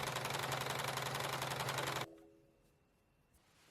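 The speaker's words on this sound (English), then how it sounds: "I'm ironing the tubes flat before I go over them with my sewing machine with 2 lines of stitching" A sewing machine running fast, stitching lines along flattened canvas belt loop tubes, a loud steady rapid mechanical chatter that stops abruptly midway, leaving a quiet hum.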